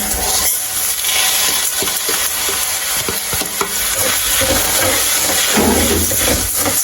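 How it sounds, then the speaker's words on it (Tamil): Washed green gram dry-roasting and being stirred in a pan, giving a steady close sizzle and hiss with repeated scraping taps of the stirring throughout. "இப்போ இந்த பயிரை இந்த சட்டியில் போட்டு வறுக்க போகிறேன்."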